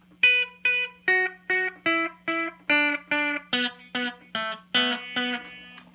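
Electric guitar through a Toronto City Transit Delay pedal set for a single slapback repeat: about a dozen evenly spaced plucked notes, each clean and close with a short echo, over a faint steady hum.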